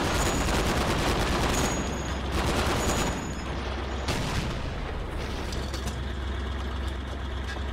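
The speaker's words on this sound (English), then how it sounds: "Now let's test the machine guns." Sustained machine-gun fire from a tank's mounted triple-caliber gun in a video game, a loud dense rattle of rapid shots over a heavy engine rumble, with a few pauses and a booming impact.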